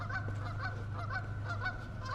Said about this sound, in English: I can hear honking ducks around